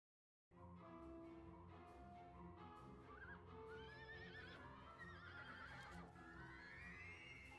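A horse whinnies and neighs repeatedly in the video game Dragon Quest VIII over a busy bed of sound with whimsical music and hoof clip-clops, loud and close, no talking.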